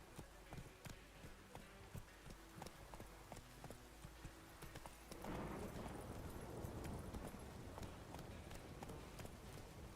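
Roach the horse gallops in a video game, a quick steady rhythm of clip-clop hoofbeats that grows busier and louder partway through, with faint background ambience.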